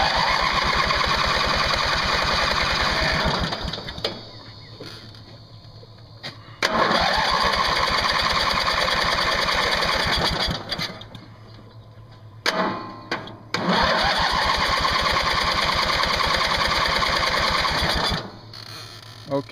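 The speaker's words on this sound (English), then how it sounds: "Let's see if it'll crank over or it'll turn on." A Craftsman lawn mower engine, primed with ether, cranks over repeatedly in long loud stretches of rapid chugging. Several short pauses break it up, and each attempt stops and restarts without the engine catching.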